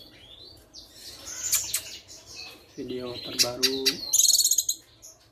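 A young female cucak kinoy bird in an active state gives bright, sharp chirps and short song phrases in bursts, close by, with faint background noise between calls.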